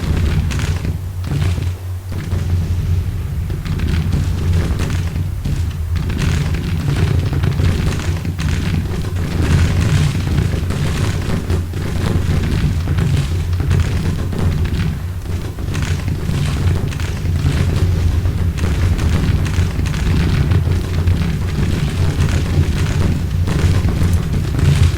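Artillery batteries firing in the Civil War strategy game Grand Tactician, a steady wash of deep booms and heavy thuds rolling continuously beneath low battle rumble, with no talk over it.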